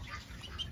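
A Muscovy duck sits beside its baby ducklings, giving soft, continuous chirping and quiet duck calls close by, low and steady over a brief moment with no talking.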